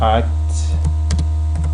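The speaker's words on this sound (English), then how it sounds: "here we're gonna type ntds util" Keys on a computer keyboard tap out a command in a few light, scattered clicks over a steady electrical hum. A brief voice comes at the start.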